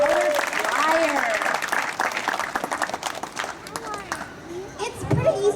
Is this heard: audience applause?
yes